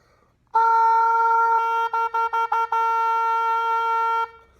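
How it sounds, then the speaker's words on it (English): A sustained, piercing squawk from an oboe double reed blown alone on one steady pitch, briefly stuttering into a few quick choppy pulses before holding again and stopping. "And an oboe, if you blow through it, kind of sounds like this."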